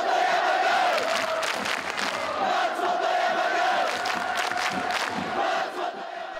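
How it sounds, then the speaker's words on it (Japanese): Football supporters of Matsumoto Yamaga FC cheering and chanting together in a J.League stadium, a dense, loud crowd roar with a sustained sung chant running throughout. "サポーターは声の限り選手たちにエールを送り続けた"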